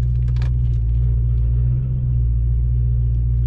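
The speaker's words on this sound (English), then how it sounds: "So as you guys are hearing the exhaust, that is the sound of the X pipe." A car exhaust fitted with an X pipe and with the mid mufflers deleted gives a steady, deep, close rumble at idle, with a slight dip and swell partway through and no talk.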